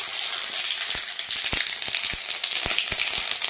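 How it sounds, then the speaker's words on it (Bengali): Whole fennel and cumin seeds fry in hot oil for a biryani, a steady bright sizzle broken by scattered sharp pops and crackles, close and continuous with no talking. "আমার কাছে আছে গোটা মৌরি আর গোটা জিরা। আমি এখন তেলের উপরে আমি দিয়ে দেব"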